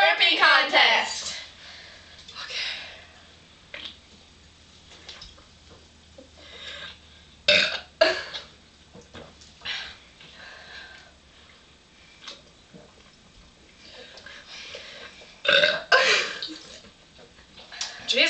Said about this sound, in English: And we're having a burping contest.